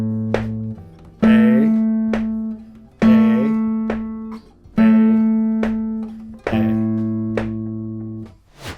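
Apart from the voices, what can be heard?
metronome clicking during guitar practice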